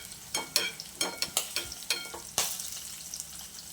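Garlic and red chilies fry in hot oil while being stirred, giving a run of close, crackly sizzling bursts and scraping stirs in an uneven rhythm, with no talking.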